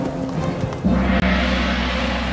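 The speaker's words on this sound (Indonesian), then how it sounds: "Ini membuat kuda menjadi takut dan melarikan diri." A frightened horse gallops away, its hoofbeats loud and close in a steady clip-clop rhythm with no voices over them.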